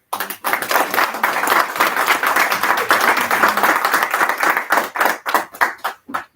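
An audience applauds with dense, sustained clapping that runs for several seconds, then breaks into scattered individual claps as it fades out at a student orientation event.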